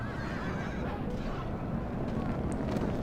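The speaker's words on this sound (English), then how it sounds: "now my horses are coming in" Cavalry horses charging in the Rome: Total War strategy game, with loud whinnies and neighs over a dense rumble of galloping hooves and battle noise, steady and close throughout.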